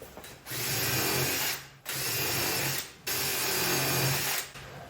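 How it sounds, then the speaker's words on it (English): Power drill boring pilot holes into wood boards in a barn workshop, three steady whirring bursts of about a second each separated by short pauses, close and fairly loud. "I'm drilling these pilot holes so it doesn't bust out the side when I put them up there"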